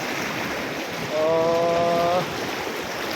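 Floodwater rushing over a bridge in a steady broad roar, close and loud throughout, with a brief horn-like tonal blare rising over it midway; no talk.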